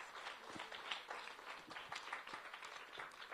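Audience applause for students at a Carnatic music special lecture: a dense, steady wash of many hands clapping together, moderately loud and continuous throughout.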